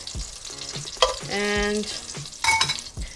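Onions, fennel and garlic fry in a pan for a mussel and fennel pasta sauce, giving a steady close sizzle with stirring, while a voice briefly speaks.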